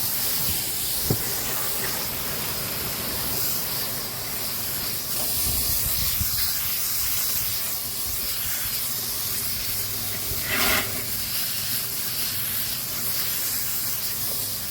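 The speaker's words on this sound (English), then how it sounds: "All right, let's spray this in the front." Cleaner sprayed onto the front of a Trane unit during a deep clean, giving a steady hissing spray that runs through most of the span, with a brief stronger burst near the end.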